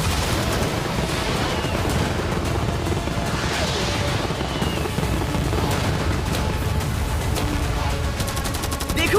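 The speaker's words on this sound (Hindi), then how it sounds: "मैं चाहता हूँ कि तुम कैनन्स, फायरवर्क्स, एरोस, कैटापल्ट्स सब कुछ एक साथ फायर करो।" Cannons, fireworks, arrows and catapults fire all at once at a boat, making a dense, continuous barrage of booms, cracks and crashes that rolls on without a break.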